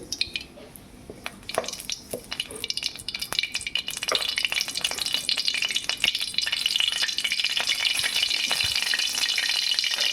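Coconut oil sizzles and crackles in a Kerala cheenachatti wok, building from scattered pops to a dense, steady frying hiss, with occasional stirring clinks. Nobody speaks.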